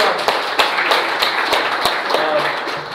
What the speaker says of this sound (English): So let's give a big round of applause to him.